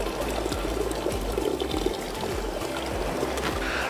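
Beer poured out for a beachside seafood boil makes a steady, soft glugging pour with trickling splashes, running continuously and fairly close by without any talk.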